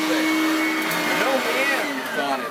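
An American-made Simplicity vacuum cleaner, a light entry-level model, runs with a steady whirring motor drone and shifting airflow tones while someone talks over it up close.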